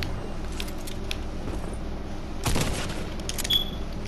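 A single gunshot cracks out sharply midway through a Fortnite Battle Royale match, standing out briefly above a steady in-game background with no one talking.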